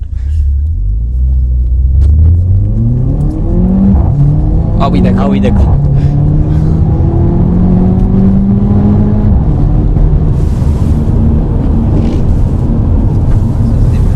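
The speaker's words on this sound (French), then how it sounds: "Quand au passage de rapport, la pétarade, j'aime bien, j'adore, moi." Mercedes CLA 45 AMG accelerating hard through the gears, engine note climbing in repeated rising sweeps with sharp exhaust pops at each shift, loud and close from inside the car, with brief talk over it.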